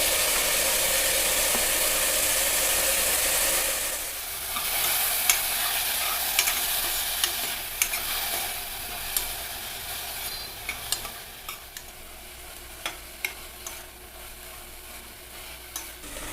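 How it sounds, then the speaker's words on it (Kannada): Onions and tomato for sambar fry in a pan with a steady sizzling hiss, louder for the first few seconds, then softer with repeated sharp scrapes and clicks of a spoon stirring against the pan, close up and without talk. "ಇದು ಟೊಮೆಟೊ ಚೆನ್ನಾಗಿ ಮೆತ್ತಗೆ ಬೇಯೋವರೆಗೂ ಸ್ವಲ್ಪ ಹುರಿಬೇಕಾಗುತ್ತೆ"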